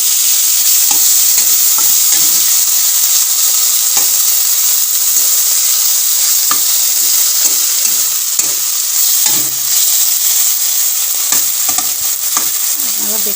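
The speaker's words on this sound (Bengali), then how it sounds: "আপনারা দেখছেন সজনে শাকের ভাজা।" Drumstick leaves (sajne shak) frying in a pan, a loud continuous hiss of sizzling with repeated scraping and clacking as a spatula stirs them throughout.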